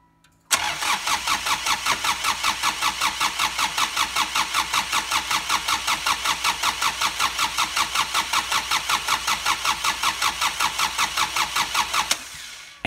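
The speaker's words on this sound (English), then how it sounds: "Now you folks watch as I crank this engine over" An engine cranks over steadily with a rapid, rhythmic chugging from the starter, loud and close, running for about twelve seconds before stopping.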